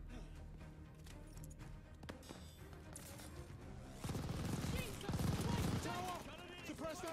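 Enemy machine gun fire in the video game Call of Duty Vanguard, fairly faint at first, then growing denser and louder as rattling bursts of rapid shots mix with crashes and battlefield voices.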